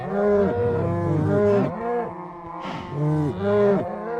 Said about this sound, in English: So they're all adult cows now.